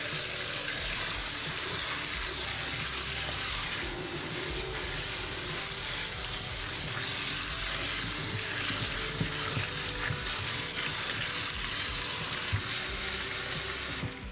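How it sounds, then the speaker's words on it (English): Running water from a kitchen faucet sprayer rinses pumpkin seeds and orange pulp in a strainer, a steady broadband splashing hiss lasting throughout at close range with no voices. "I'm going to take my faucet or the little sprayer thing, and I'm just going to try my best to get out all the orange pumpkin guts."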